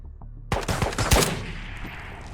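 Rifle fired in the Ghosts of Tabor shooting game, a quick run of several loud, sharp shots from a Tapco-equipped gun, closely spaced over about a second, each leaving a short decaying echo.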